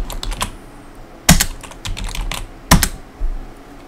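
Computer keyboard typing while entering failed login attempts: a steady run of light key clicks with a few louder, sharper key strikes standing out, close and clear with no speech.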